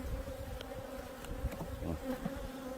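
Honeybees buzz steadily around a beehive at an apiary in Sancheong-gun, South Korea, a dense, continuous hum close by with individual bees passing near.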